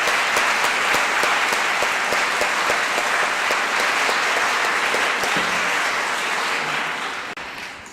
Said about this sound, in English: Please join me in an additional applause for our musicians tonight.